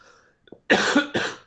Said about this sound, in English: Bloody cough.